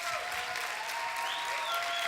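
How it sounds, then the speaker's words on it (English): An audience applauds traders at an event, with dense, steady clapping from a large crowd filling the whole moment at even loudness. "Can you give these guys a round of applause?"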